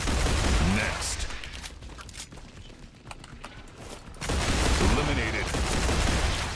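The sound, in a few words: gunfire in the video game Star Rupture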